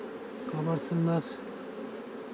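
Honey bees at a beehive, a soft continuous buzzing hum under a brief spoken phrase in Turkish, steady and close throughout.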